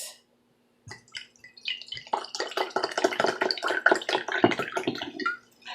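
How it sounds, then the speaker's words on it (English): After a short silence, wine gurgles and splashes into a glass in a quick, bubbly pour lasting a few seconds, close and clear. "Pour myself a refill."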